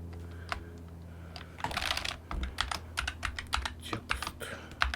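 Computer keyboard typing in a quiet room, with irregular bursts of close keystrokes and short pauses over a low steady hum.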